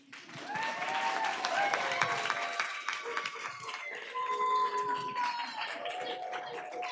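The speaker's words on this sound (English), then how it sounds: "Clap now." Audience clapping at a school board meeting, a steady round of applause from a modest crowd with voices and chatter mixed in.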